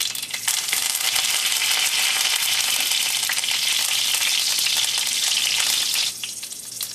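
Curry leaves dropped into hot oil for a Kerala chicken fry, a loud continuous sizzle and hiss that holds steady, then drops off sharply near the end.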